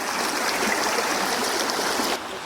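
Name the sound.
cold mountain creek flowing near Goat Creek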